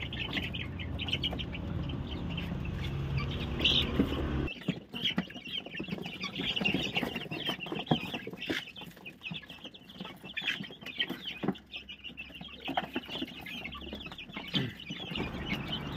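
Young chicks and growing chickens cluck and peep in a coop, their chatter close and fairly loud. Scratchy rustling and shuffling sounds come and go beneath the calls, with no one speaking.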